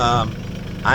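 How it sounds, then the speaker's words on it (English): A tractor engine runs steadily in a wooded rural setting, a continuous low, close rumble that carries through the whole moment, with a voice briefly audible over it at the start and end. "Apologies, I'm on my tractor. It'll be noisy."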